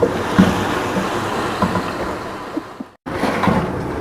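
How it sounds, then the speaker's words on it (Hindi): Food fries steadily in a pan for a breakfast dish, a loud continuous sizzle and crackle that holds throughout, broken by one brief silent gap near the end. "अब हम लोग इसको आहिस्ते से फ्राई करना शुरू करेंगे"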